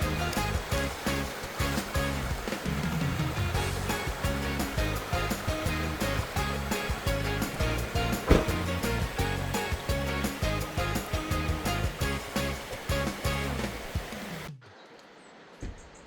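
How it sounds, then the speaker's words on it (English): Pistyll Rhaeadr waterfall in mid Wales roars as a steady, dense broadband rush that fills the whole stretch, dropping away abruptly near the end. "You can hear the waterfall, and it's just behind those trees."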